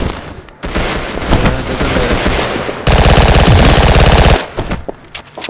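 Video game gunfire from the shooter Double Action, loud and close: dense automatic bursts and rapid repeated shots filling the clip, with one sustained, evenly pulsing stretch of fire in the middle before a brief tail.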